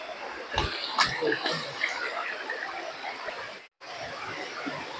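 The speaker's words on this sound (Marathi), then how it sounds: "हा बघा धबधबा." Aadoshi waterfall near Khopoli flowing with a steady, broad rushing roar that fills the whole stretch, briefly dropping out once near the end, with a few faint voice-like sounds early on.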